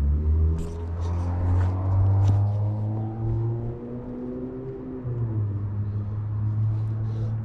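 Cars pass along a street on the Gold Coast with a steady engine rumble and a low droning hum that shifts pitch midway, fairly close and loud, with no talk over it.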